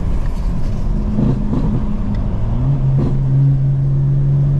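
A Stage 2 tuned 2025 BMW M4 Competition xDrive sits with its exhaust valves open, holding a deep, loud idle drone with a couple of brief blips before settling into a steady low hum.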